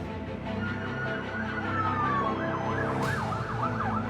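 Ambulance sirens wail continuously, their rising and falling tones layered over a loud, dense din at the scene of an attack on a Palestinian refugee camp.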